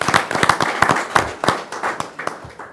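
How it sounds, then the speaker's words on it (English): Scattered applause from a small meeting audience at a university advisory board gathering, distinct individual claps with a loose, uneven rhythm, close and fairly loud, thinning out toward the end. "So let's give him a round of applause."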